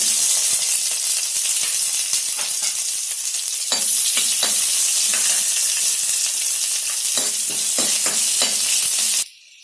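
Onions, curry leaves, green chilies and dried red chili pieces frying in a pan for a vegetable curry, with a loud, steady sizzle and intermittent stirring scrapes throughout before it cuts off abruptly at the end.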